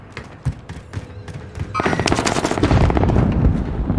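Rapid automatic gunfire in a shooter video game erupts after a few scattered single shots and thuds, becoming a loud, sustained volley of close fire that runs to the end.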